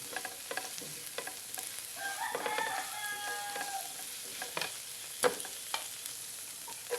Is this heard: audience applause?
no